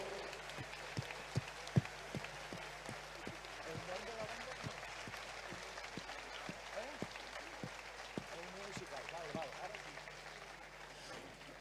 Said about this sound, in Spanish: Fuerte aplauso, por favor.